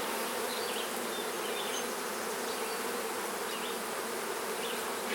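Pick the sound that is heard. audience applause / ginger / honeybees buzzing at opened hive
honeybees buzzing at opened hive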